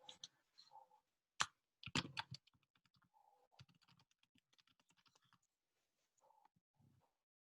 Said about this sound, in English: I'm going to try typing on here and see if it works.